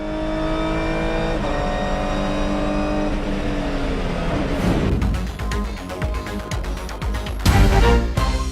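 Funyo race car running flat out down the straight at Motorland Aragon, a loud steady engine howl from onboard that climbs in pitch through the gears, then shifts into rougher, choppier revving toward the end.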